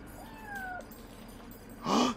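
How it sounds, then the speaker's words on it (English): A cat in the video game Yonder: The Cloud Catcher Chronicles gives a soft, thin, drawn-out meow, followed after a pause by a brief, louder, brighter meow-like cry against quiet game ambience. "So every time I hear the cat purr,"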